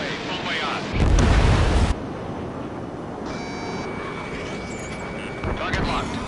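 A missile launches and explodes in a PS4 combat video game, a loud broadband burst lasting about a second, then low rumbling with a steady tonal hum and a second swell of noise near the end.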